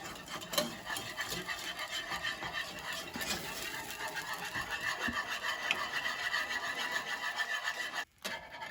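A whisk scrapes and swirls through thin, soupy gravy in a pan for country fried chicken, a continuous rasping stir close by, with a brief pause near the end and no talking.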